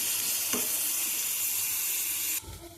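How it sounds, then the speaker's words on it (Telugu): Thinly chopped coconut fries in hot fat, giving a steady, bright sizzle close by that cuts out sharply near the end, followed by a soft clatter. "సన్నగా తరిగిన కొబ్బరిని వేయించుకుందాం."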